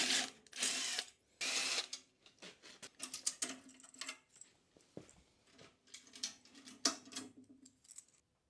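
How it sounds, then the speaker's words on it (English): Fender bolts are unbolted on a Yamaha RoyalStar 1300 V4 motorcycle, heard as close, sharp bursts of a power tool followed by irregular ratcheting clicks, rattles and metallic taps with short quiet gaps between them. "we'll start unbolting everything."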